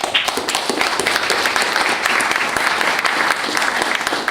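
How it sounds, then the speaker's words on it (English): Audience at a graduate school graduation ceremony in Paris applauding the graduates, a dense, steady roar of many hands clapping, loud and sustained without a break. "You all deserve a round of applause for yourselves."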